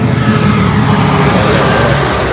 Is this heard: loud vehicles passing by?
yes